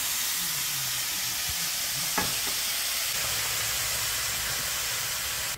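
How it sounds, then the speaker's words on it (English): Pumpkin frying in a pot over a fireside chulha gives a loud, steady sizzle and hiss up close, with a few stirring scrapes and knocks. "So, putting in our pumpkin."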